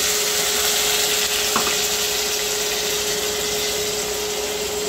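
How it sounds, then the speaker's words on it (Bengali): Onions frying in a pan for a sea fish curry give a steady, even sizzle close by, with a brief clink of a utensil partway through and no speech. "এবার একটু পেঁয়াজটা একটু ভাজা ভাজা করবো"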